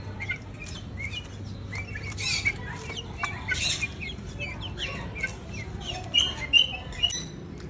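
Young chicks scratching and pecking at plants outdoors after rain, giving soft, scattered clucks and high chirps at close range over a steady hiss of background noise.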